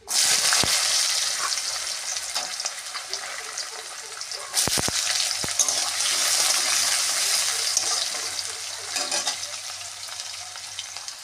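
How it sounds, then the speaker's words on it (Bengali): Small diced potatoes fry in oil tempered with dried red chilli, bay leaf and cumin for a beetroot and moong dal ghonto. A steady close sizzle and crackle runs throughout, with occasional clinks of a stirring spoon and no talk. "আলুটা লাল করে ভাজা হয়েছে"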